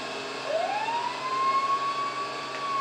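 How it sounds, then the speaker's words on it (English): A steady, fairly faint fire truck siren wail in GTA V, rising then holding its pitch over a constant engine drone. "Sirens!"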